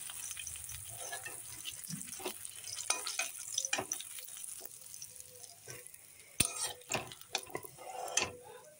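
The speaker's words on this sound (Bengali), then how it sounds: "4 পিস গাদার প্রথমে ভেজে নিচ্ছি, তারপর পেটিগুলো ভেজে নেব" Four pieces of rohu fish frying in oil in a pan, a soft steady sizzle punctuated by scrapes and clacks of a metal spatula as the pieces are placed and turned.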